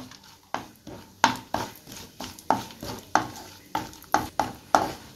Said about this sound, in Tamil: இப்போ இது பொன்னிறமாக வர வரை நல்லா வறுத்து எடுத்துக்கலாம்